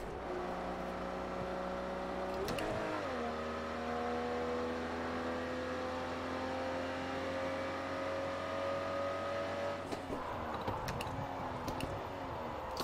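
Racing car engine in the Project Cars 2 video game, a steady sustained drone with shifting harmonic pitch and a brief gear-change dip near the start, then another shift late on, continuous and fairly loud.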